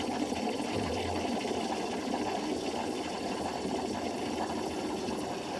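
A milk frother steadily whirs as it foams milk for a cappuccino, a continuous buzzing, gurgling drone that holds even and close throughout, with no speech.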